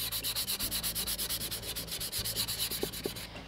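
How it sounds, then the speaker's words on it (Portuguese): Sandpaper is rubbed back and forth over a wooden planter box for herbs, making rapid, even, rhythmic scratching strokes that repeat steadily and sound close. "Então, vamos lixar um pouquinho."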